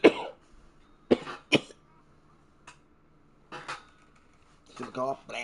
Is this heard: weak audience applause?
no